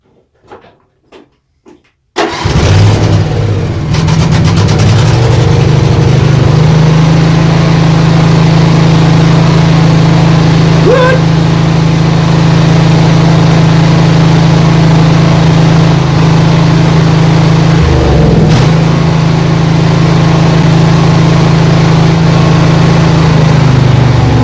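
A lawn racer riding mower is cranked over with a few clicks, then its engine catches and settles into a loud, steady running drone that continues uninterrupted.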